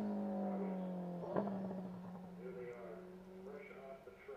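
A Saleen Cup race car slows into the pits at Portland, its engine drone falling in pitch and fairly distant beneath steady commentator talk.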